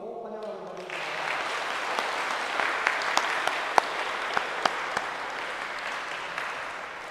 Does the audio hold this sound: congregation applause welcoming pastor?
yes